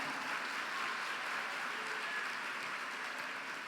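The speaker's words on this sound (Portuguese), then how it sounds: "Aplaude a Jesus aí." Steady, dense clapping from a church women's congress crowd, sustained at an even level throughout with no pauses.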